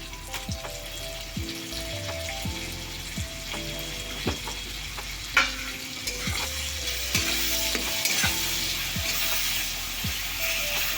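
Ginger, garlic and onion paste frying with tomatoes, a constant loud sizzle under repeated spatula scrapes and stirs against the pan, close and busy throughout.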